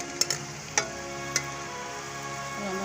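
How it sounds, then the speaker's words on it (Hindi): Onion frying in two large spoonfuls of ghee for a liver and spinach dish: a steady close sizzle with a few sharp clicks of stirring early on, no talk. "और हमारा प्याज जो है फ्राई हो रहा है।"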